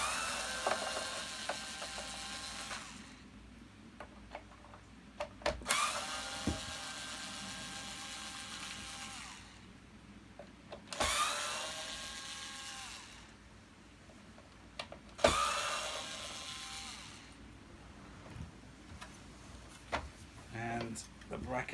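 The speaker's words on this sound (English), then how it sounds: "Let me undo the 4 screws that hold the filler cap on." Screws on a Hoover Purepower U3450 vacuum cleaner being undone with a ratcheting screwdriver: four bursts of rapid clicking ratchet, each a few seconds long, close up, separated by pauses with a person talking quietly.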